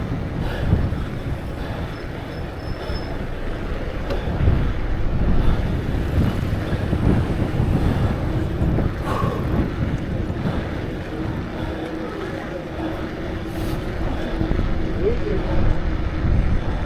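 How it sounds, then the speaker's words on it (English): Strong wind buffets the microphone of a rider out on a ride, a steady loud roaring rumble that carries throughout with gusty swells. "Now the wind's hitting me."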